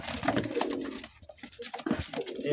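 A male pigeon coos close up in a few soft, throaty phrases. A brief quiet gap falls between the bursts.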